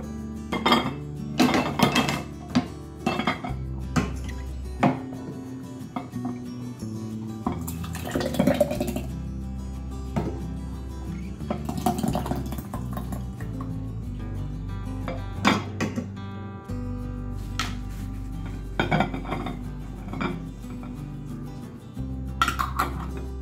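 Glass jars of strawberry rhubarb jam with lids clink and knock against a hard surface as they are flipped upside down, a series of scattered, close, fairly quiet clatters with pauses between them.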